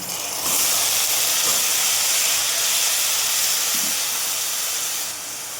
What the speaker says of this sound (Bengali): দিয়ে দিচ্ছি চাউমিন